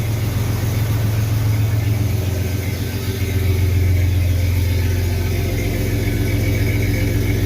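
Chevy S10 pickup with a 2.8 V6 idling a little high through a Flowmaster 40 series exhaust, a steady deep rumble held close and loud for the whole stretch with no talking.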